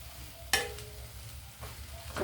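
Ingredients for a coriander tomato pickle dry roasted in a pan and stirred, a few soft scraping strokes and a faint crackle, fairly quiet and close, with one sharper scrape early on.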